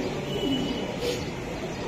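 A pigeon coos softly nearby, a short low call rising briefly over a quiet background of other faint bird sounds.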